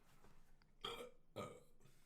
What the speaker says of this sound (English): This chair burps now.